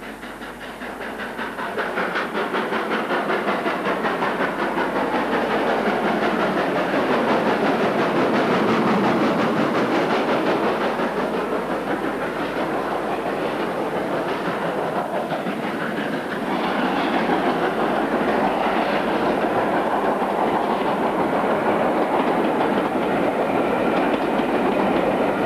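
GWR Castle class steam locomotive 5029 Nunney Castle runs along the line on a Cotswold railtour, a loud sustained roar of exhaust and rolling wagons with rhythmic wheel clatter building and holding for the whole stretch.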